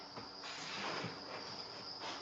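Newly hatched baby crickets in their bins make a faint, steady high-pitched chirring that continues unbroken, quiet and close, with no voices.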